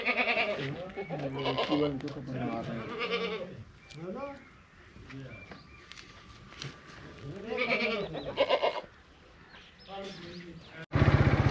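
Goats bleating in repeated wavering calls, mixed with a busy outdoor background and talk nearby in Sargodha, Pakistan, with a sharp burst of noise at the very end.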